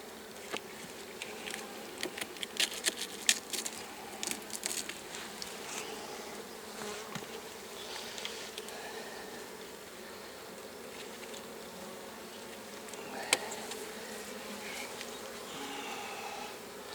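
Honey bees buzzing steadily around an open hive during an early-spring honey harvest from a log hive, a dense continuous drone close by with occasional louder passes.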